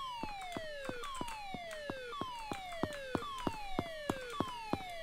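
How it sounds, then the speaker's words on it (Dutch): Police siren from the Emergency Hamburg video game, a repeating falling wail with a crisp rhythmic clicking beneath it, several cycles in steady succession, moderately loud with no voices. "Ik hoor de politie sirene."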